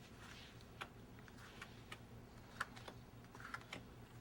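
Playing cards dealt back and forth into two piles at a magic table, a series of light, crisp flicks and taps spaced irregularly, close and quiet, with no talking.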